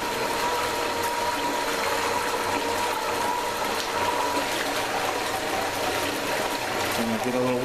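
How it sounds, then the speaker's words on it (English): Water pours steadily into a Dirt Hogg Paydirt, a continuous rushing, splashing stream held close and fairly loud throughout. "I'm going to get a little water here, add it to my Paydirt."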